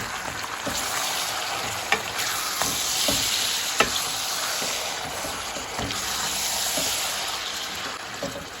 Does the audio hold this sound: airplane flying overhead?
no